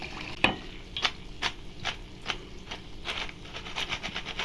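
Rice flour thattai, a crispy evening snack, frying in hot oil with a steady bubbling sizzle broken by soft scraping stirs, close and continuous with no voices.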